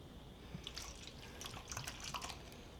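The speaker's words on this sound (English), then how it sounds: "I just put the water in the bottle to rinse out the bottle" Water poured into a nearly empty oyster sauce bottle to rinse it, heard as light, irregular splashing and dripping close by with no talking.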